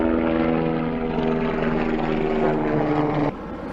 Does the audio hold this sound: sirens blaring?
no